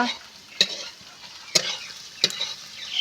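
Onions sautéing in a pan for an egg curry, a soft steady sizzle broken by three sharp scraping strokes of a spatula spaced about a second apart, close and fairly quiet with no talking.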